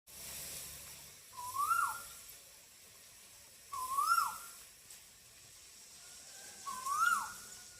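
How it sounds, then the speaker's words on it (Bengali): A koel, a cuckoo, calls three times at steady intervals, each a rising, whistled note that carries clearly over a quiet background. "এই সময় কোকিলের ডাক কিন্তু খুব একটা শোনা যায় না"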